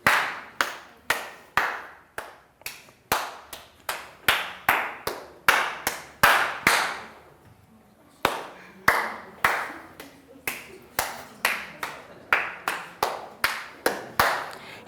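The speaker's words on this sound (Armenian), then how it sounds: "եկեք մի ծափ այսպես շրջանով անենք" A group standing in a circle in a school arts session claps one after another around the ring, producing a long run of sharp, separate hand claps at a quick, fairly even pace, with one short pause partway through.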